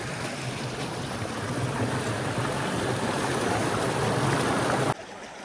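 Natural river water rushes in a dense, continuous flow, loud and close, holding steady for several seconds before cutting off abruptly near the end.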